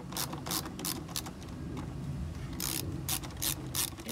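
Repeated clicking bursts of a hand ratchet backing out four airbox screws on a Ford Focus ST, the ticking rattles coming in quick clusters against a steady low background hum.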